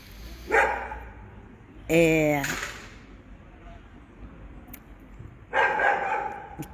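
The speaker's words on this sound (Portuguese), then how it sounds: "E esse cachorro, provavelmente ele que mora no térreo, tá ali latindo." A dog belonging to a ground-floor apartment barks in a few separate sharp bursts at a moderate distance, with a long rising yelp among them, while a person talks over the top.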